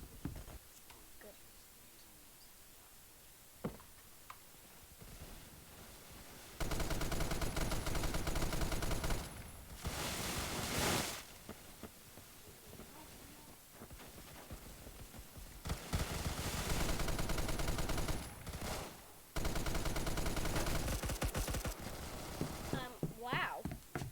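Video game gunfire, quiet at first with scattered isolated shots, then long dense stretches of loud rapid shooting that swell and cut out repeatedly, with voices talking faintly throughout.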